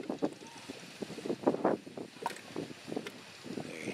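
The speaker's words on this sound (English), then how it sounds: "I don't know if you can hear that mud down inside that hole." Mud bubbles down inside a hole at Dragon Mouth Spring in Yellowstone, sending up irregular gurgling bursts and plops at a moderate distance over a soft rush of wind.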